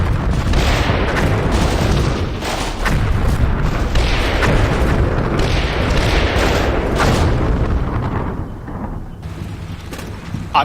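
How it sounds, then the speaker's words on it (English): 100mm artillery rounds bursting in the combat simulation game Combat Mission Black Sea, loud rolling booms and crashing impacts following close on one another, easing to a fainter rumble near the end. "I'm going to have to tone the fire support down because those 100mm rounds are getting close."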